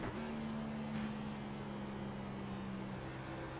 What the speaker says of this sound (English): As you can hear that car downshifting in 3 and 4.